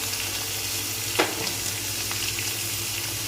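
Chopped onions fry with salt in a pan, giving a steady, moderately loud sizzle with one brief sharp crackle near the middle.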